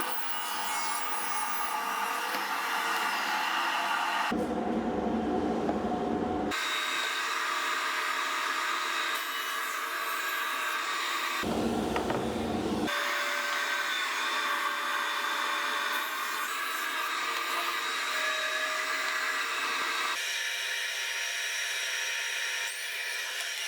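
A power saw cross-cutting a sheet of plywood on a cross-cutting table, with a steady loud whine and two brief gaps where the cut breaks off.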